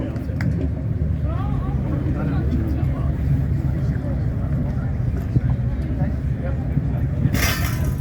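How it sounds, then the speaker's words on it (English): A 1962 Manx Norton 500 single-cylinder racing motorcycle engine, from the final year of the factory Manx, runs with a steady low rumbling drone. Voices are audible over it, and a brief hiss comes near the end. "let's hear this lovely bike"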